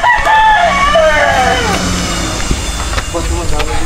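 A rooster crows repeatedly among many chickens near a house in Matabungkay, its calls loud and close, with clucking fowl and faint vehicle noise in the background.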